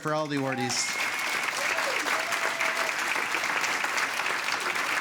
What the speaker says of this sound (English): Let's give it one more round of applause for all the awardees.